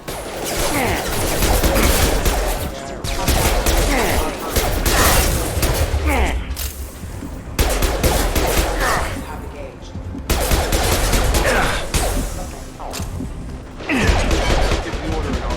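Sustained bursts of gunfire against mechs in the sci-fi shooter game Mass Effect 2, loud and continuous with short pauses between volleys, dense rattling fusillades filling the whole stretch.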